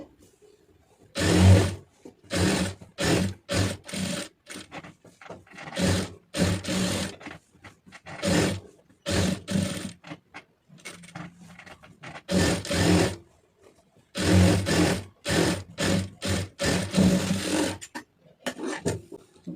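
A sewing machine runs in short, rapid bursts with brief pauses between them, stitching a seam on a star-neck blouse; close and clear, with no talk.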